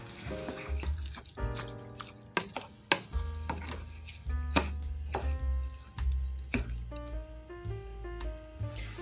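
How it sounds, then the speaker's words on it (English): A spoon stirs a chicken, peas and white rice mixture in a pan, with repeated scraping knocks and soft sizzling in an uneven rhythm, close and moderately quiet. "So you can go ahead and mix that until everything is well combined."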